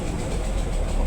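A weak motorcycle engine labours on a rough, hard-to-climb road, giving a continuous low, strained drone that stays steady for about a second.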